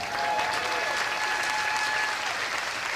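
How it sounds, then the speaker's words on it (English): An audience claps steadily for a volunteer coming up to juggle at a live show, the applause dense and sustained throughout with a faint murmur of voices underneath. "Give a round of applause to Peg, please."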